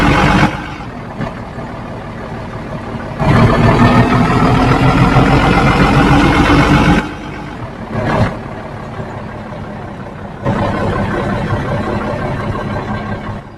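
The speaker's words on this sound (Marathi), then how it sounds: "ट्रकचा पण आवाज एकदम इंडियन ट्रक सारखा आवाज येतो आहे" Indian-style truck engine in a driving game, running steadily after starting, with a deep idling rumble that swells louder in long stretches and drops back between them, no talk.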